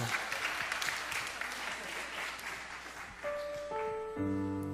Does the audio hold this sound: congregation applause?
yes